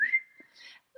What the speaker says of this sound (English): We had a click, and now we have a whistling.